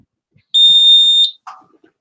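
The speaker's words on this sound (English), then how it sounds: "I'm going to go ahead and activate the detector." A smoke detector being activated sounds one loud, steady high-pitched alarm tone lasting under a second, then cuts off, followed by brief faint handling clatter.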